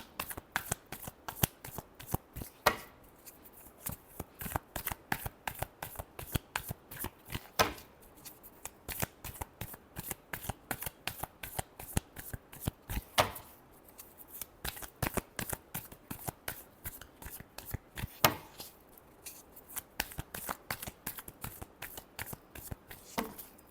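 Tarot cards shuffled by hand in a steady run of quick riffles and flutters, close and crisp, with no talking for the whole stretch.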